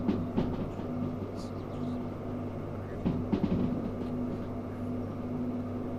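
An electric locomotive rolls along the track in the Derail Valley video game, a low steady hum and rumble with light clicking, continuous and moderately loud, no talking.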